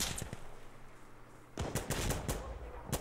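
Barrett rifle fire in the video game Insurgency: Sandstorm, a few quick sharp shots early and then a dense cluster of loud cracks in the second half.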